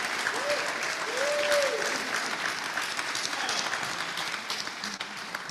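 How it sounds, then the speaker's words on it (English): Audience applause at a Rotary Club of Gainesville meeting for outgoing board members, a steady dense wash of clapping from a room of people, with a faint whistle-like tone early on. "Let's have a big round of applause for Ryan, all the outgoing board members, to every member whose service made it a great year."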